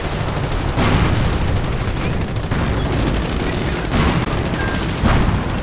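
Heavy gunfire striking a base in the Company of Heroes strategy game: loud, rapid machine-gun bursts and overlapping shots rattle on continuously, with a few sharper cracks punching through the barrage.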